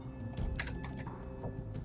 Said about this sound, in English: And I hope that you can get good audio feedback on my mouse and